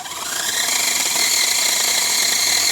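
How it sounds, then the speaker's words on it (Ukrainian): Loud, continuous high-pitched buzzing of a cordless battery saw cutting through wood, steady throughout with no talking. "Опиляй его снизу вверх, воно впаде, Юр."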